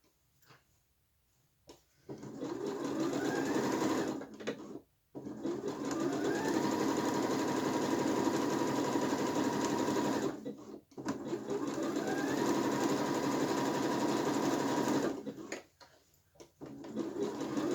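Sewing machine stitching a t-shirt in three long bursts separated by short pauses, each run a steady close motor whir with rapid needle rhythm.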